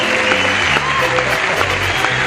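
A game show audience applauds a winner, steady dense clapping throughout with faint crowd noise and a little background talk.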